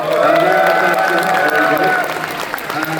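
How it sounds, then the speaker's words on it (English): Theater audience applauding Phantom of the Paradise at a Monsterpalooza panel: dense, steady clapping from a crowd, loud at first and tapering slightly toward the end. "Any claps for that?"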